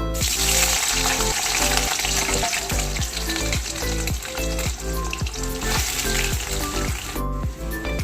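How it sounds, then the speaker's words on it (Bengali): Boiled soybeans frying in well-heated oil, a dense continuous sizzle that stays loud and close throughout with steady crackling, and no talk over it. "সয়াবিনটাকে আমি ভালো করে ভেজে নেব।"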